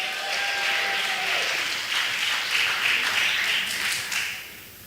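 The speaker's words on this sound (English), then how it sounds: "Give him a round of applause." Audience applause in a Bahamian Anglican church during a Christmas programme, steady clapping across the whole stretch that swells briefly near the end, with a faint whistle or tone early on.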